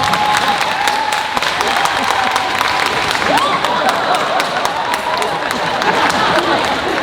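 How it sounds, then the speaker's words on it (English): Sustained applause from an audience at a Q&A event with an actor, dense clapping and crowd noise filling the whole stretch at steady loudness, with a short whistle or whoop rising partway through. "4 rounds of applause is a new record for Ghent."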